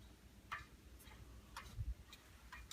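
A grandfather clock ticks faintly and evenly, roughly two crisp ticks per second, over a low room hum with no one speaking.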